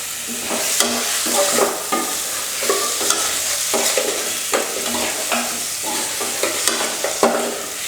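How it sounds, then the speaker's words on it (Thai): Pork bones sizzle in a hot 20 cm pot while a utensil scrapes and stirs in an irregular rhythm, close and steady throughout. "ผัดให้มันหอมเลยนะครับ"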